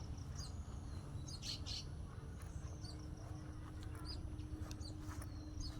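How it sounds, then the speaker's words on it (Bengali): Birds chirp in a quiet village in Uttar Lamchhari, Barishal, with faint scattered calls over a steady low background rumble. "পাখির কিচিরমিচির শব্দ"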